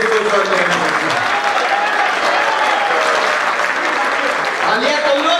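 Thick, loud applause from the audience at a Hindi comic poetry gathering fills every moment, a dense, continuous roar of clapping with crowd voices mixed in.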